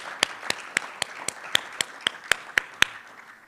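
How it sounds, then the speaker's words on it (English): Clapping at the launch of a CARICOM resilience fund: a handful of distinct claps at a steady pace of about four per second, close and crisp over light background applause, with no talk. "We need to give you a round of applause."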